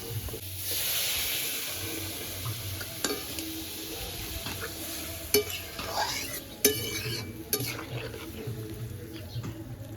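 Tilapia curry ingredients with turmeric fry lightly in a pan, a soft low sizzle broken by sharp clicks and scrapes of a utensil stirring, with faint bird calls in the background.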